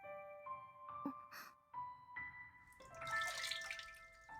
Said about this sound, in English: Dripping sound is louder than before.